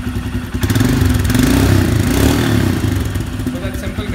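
A motorcycle engine catches and runs after a jump start from a dead battery, a loud, rough, continuous mechanical rumble with clatter, close by, holding steady throughout.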